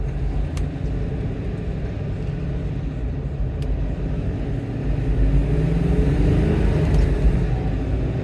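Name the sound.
Toyota Hilux with LS V8 engine revving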